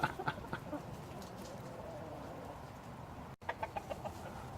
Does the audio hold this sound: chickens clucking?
yes